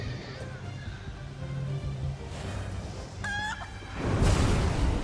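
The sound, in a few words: chickens clucking in a video game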